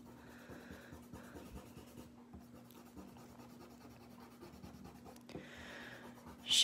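A pen or pencil scratches across paper while drawing a fairy picture, giving faint, close, continuous scratchy strokes with short pauses and a low background hum.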